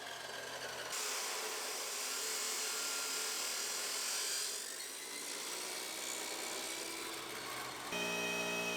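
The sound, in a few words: cutting brackets for a Mustang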